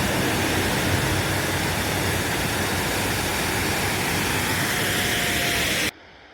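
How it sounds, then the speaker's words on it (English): A roadside waterfall on Going-To-The-Sun Road in Glacier National Park roars as a steady, loud rush of falling and spraying water heard from a passing full-size truck, then cuts off abruptly near the end. "Got a little waterfall."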